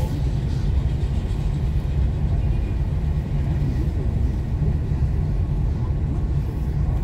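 A car drives along a road during a Saturday-morning driving lesson, heard as a loud, steady low engine and road rumble from inside the cabin throughout, with no clear talk.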